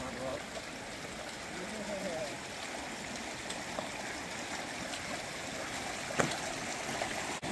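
North Inlet Creek flows at a backcountry camp, a steady soft rush of water running throughout, fairly quiet, with a brief knock near the end.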